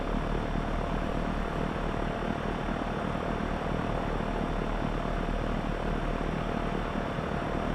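Aircraft taxiing in the X-Plane flight simulator, a constant loud engine and propeller drone with a steady low hum, unchanging and close throughout.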